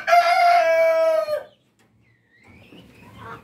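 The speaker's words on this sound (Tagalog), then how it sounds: "Ito ang rooster natin." A year-old breeder rooster on a farm crows once, loud and close, its strong harmonic call lasting about a second and a half before quiet and faint farmyard noise.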